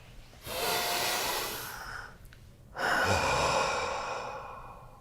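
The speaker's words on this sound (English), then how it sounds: "Big breath." A big, deep breath taken in a quiet room: a long, loud inhale followed after a short pause by a full, drawn-out exhale, close and clear with no talking.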